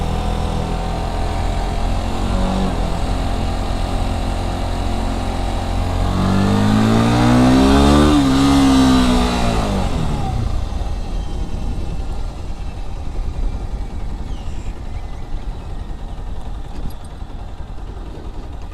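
A new 2022 Bajaj Pulsar NS 160 motorcycle engine drones steadily while being ridden, rising in a clear rev around the middle and then settling back to a rougher idle-like rumble, loud and close.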